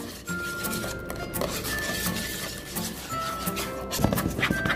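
Milk chocolate cake batter being mixed in a bowl, with a utensil clinking and scraping steadily against the sides in close, busy strokes and no talking.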